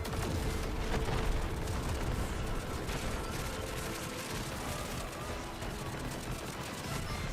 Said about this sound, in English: Just a lot of flashbangs.